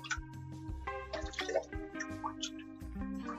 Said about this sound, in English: I'm going to soak it in the cold water.